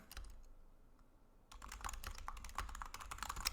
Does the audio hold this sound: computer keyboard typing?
yes